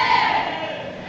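A church congregation at a leadership training service cheers in a short, loud swell of crowd voices that fades within about a second.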